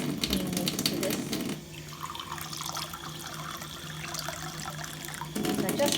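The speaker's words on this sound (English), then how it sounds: "And I'm going to switch it and get some clean water. Add some clean water to this." Clean water from a tap runs steadily into a container for several seconds, a continuous hissing splash that sits under a louder background before and after.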